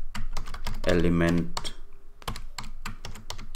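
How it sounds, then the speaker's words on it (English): Rapid clicking of computer keyboard keys during coding in a Selenium tutorial, steady and close, with someone talking briefly over the typing in the middle. "if I just start typing no such"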